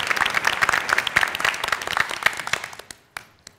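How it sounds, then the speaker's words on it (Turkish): A TV game show studio audience claps loudly for a few seconds, then the applause thins out and fades to scattered claps. "Bütün polis ve askerlerimize buradan kocaman bir alkış yollayalım."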